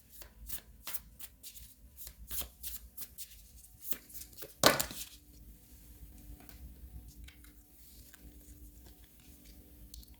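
A tarot deck is shuffled with rapid papery riffles and slaps for several seconds, one sharper snap of cards near the middle, then softer handling and card pulls follow; no talking.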